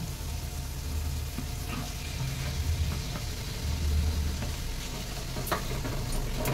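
Mashed rohu fish frying in a pan with spices, a steady sizzle with stirring and scraping sounds throughout, moderately loud and close, with no talk.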